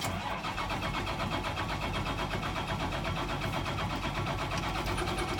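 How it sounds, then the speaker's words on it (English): A school bus engine turning over and running at a steady, continuous rumble, loud and close throughout, with no talking. "I'm gonna start the vehicle up."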